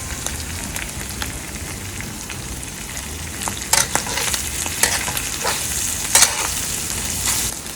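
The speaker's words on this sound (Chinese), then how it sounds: "把豆瓣酱跟这些结合在一起，炒出那个红油出来。" Doubanjiang and chili powder stir-fried in oil for Sichuan mapo tofu: a continuous loud sizzle with scattered crackles and scraping clicks of a spatula, close up and with no voices.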